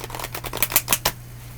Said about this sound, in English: Being that this is such a thin deck, it's just major arcana, it's hard to shuffle.